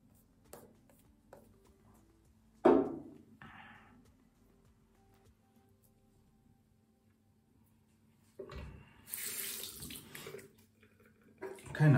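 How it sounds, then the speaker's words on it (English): A 1961 Gillette Ball End Tech safety razor is rinsed under a running tap in two short bursts of splashing water, separated by quiet stretches with faint handling sounds. "Just rinse it out a bit."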